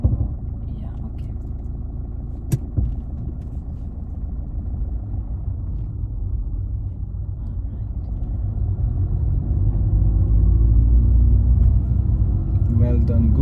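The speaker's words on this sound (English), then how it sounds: "Car is making sound." A car engine runs steadily in the cabin during a driving lesson, a continuous low rumble that grows slightly louder toward the end, with a brief click near the start and quiet talk between instructor and learner.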